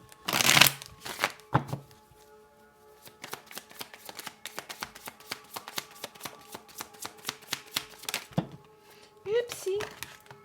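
A deck of tarot cards is shuffled by hand: a fast run of crisp riffling clicks and flutters, close and fairly quiet, with a few louder bursts of card noise and a voice speaking briefly.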